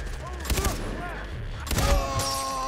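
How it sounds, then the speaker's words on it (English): Bursts of automatic gunfire in the Far Cry 3 co-op shooter, two dense clusters of loud shots with ricochet-like whines and game effects, separated by a brief lull. "They can shoot me through the leaves, but I can't shoot them."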